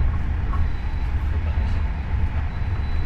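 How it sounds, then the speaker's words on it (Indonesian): Steady low rumble and hiss of the Kertanegara train standing at or arriving into Kroya station in Indonesia, a continuous even drone close by without distinct horn or speech. "Tiba di stasiun Kroya dan ini bertemu sama kereta api"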